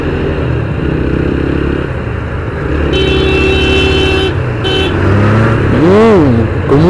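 A motorcycle rides along a road during a road trip, engine droning steadily up close, with passing traffic, a brief horn toot and a rising whine near the end.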